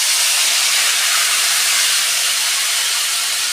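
Kasundi mustard, turmeric and chili paste sizzle in a hot pan for a katla fish curry, producing a loud, dense, unbroken hiss that fills the whole stretch without pause.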